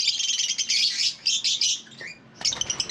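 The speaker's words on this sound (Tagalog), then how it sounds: "Ang ingay ng mga ibong to." Many small birds in an aviary chirp and twitter at once in busy, overlapping bursts, bright and close, with no speech.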